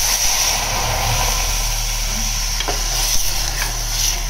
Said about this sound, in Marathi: फोडणी मस्त बसली अगदी.